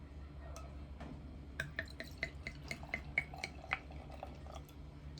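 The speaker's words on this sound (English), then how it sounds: "let's pour some out." Dolcetto Syrah red wine trickles and splashes into a glass nearby, with a run of small bright drips and clinks over a low background hum.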